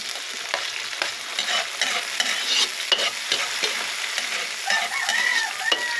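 Tomatoes and ginger stir-fried in a pan as a base for milkfish, a continuous close sizzle broken by frequent spatula scrapes and stirs, with a rooster crowing faintly in the background.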